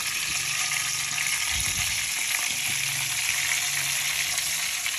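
Chopped onions hiss and crackle in hot cooking oil, a steady dense sizzle running the whole time with a few low clatters of stirring partway through, with no talk.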